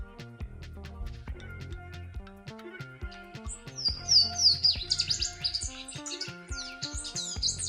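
A Louisiana waterthrush sings a run of bright, sharp chirps and slurred high notes through the second half, over a busy low tonal backdrop that stays steady throughout.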